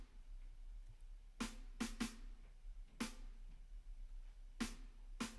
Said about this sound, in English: And so I found this acoustic snare drum sound